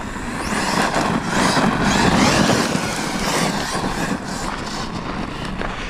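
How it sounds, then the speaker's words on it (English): An HPI Savage XL Flux V2 electric RC monster truck on 6S power drives steadily for six seconds, a loud broadband whir of motor and tires rolling over ground with small surges and no voices. "Oh, this truck drives beautifully."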